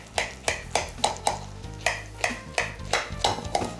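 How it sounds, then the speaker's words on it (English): A spoon digs into a baked dish with a golden-brown crust, making a regular series of scraping, crackling scoops about every half second, close and clear. "Scoop a nice portion out of here."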